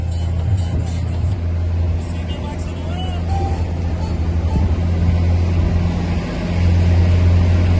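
A car revs and accelerates in a video game, its engine droning loudly and rising gradually beneath animated conversation between players.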